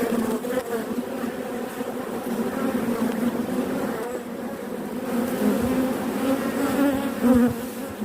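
Honeybees swarm around an open hive that holds a new queen, their dense, steady buzzing humming close by throughout, with no voices.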